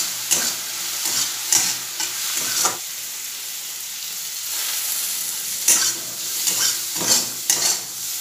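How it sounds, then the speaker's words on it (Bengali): Onions sizzling in a pan as they are stirred, with bursts of scraping at intervals over a constant fry. The sound is close and moderately loud, and nobody speaks. "পেঁয়াজটা অল্প করে ভেজে নিয়ে তারপর আলুটা দেবো।"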